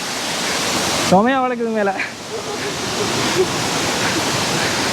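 Water rushing forcefully near a Sri Lankan waterfall after rain, a loud steady roar of flowing water heard up close, with someone briefly speaking over it.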